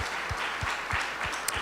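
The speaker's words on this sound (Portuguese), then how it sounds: "Vamos dar um aplauso a Ele, maravilhoso Deus." Church congregation applauding, with a brief burst of steady, rhythmic clapping and a low thump on each beat, heard alone and fairly close.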